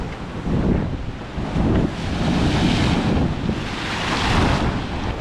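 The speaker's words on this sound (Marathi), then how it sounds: "हे लाट दाखवतो" Ocean waves surging and breaking in a continuous roar on the Konkan coast at Harihareshwar, with heavy wind buffeting the microphone throughout.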